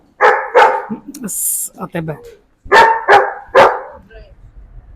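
Large dog barks inside a store, loud and close: two deep barks, a brief pause with a short voice and rustling, then three more barks in quick succession.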